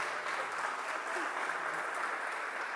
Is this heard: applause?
yes